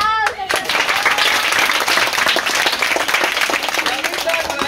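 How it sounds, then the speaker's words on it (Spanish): A crowd at a children's clown show claps and cheers in a dense, steady burst of applause, loud and close throughout, with shouting voices mixed in. "¡Un aplauso!"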